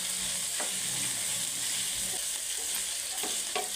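Cauliflower sizzles steadily in a pan as turmeric is stirred in, with a constant frying hiss and a few soft scraping strokes of the spoon. No voices.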